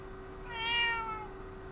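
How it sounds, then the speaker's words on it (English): A single clear cat meow, rising and falling over about half a second, close and moderately loud against a quiet indoor background. "Meow."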